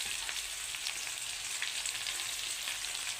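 Ponnaganti greens cooking with chopped onions in a pan give a steady, close sizzle and crackle that holds evenly throughout, with no talking.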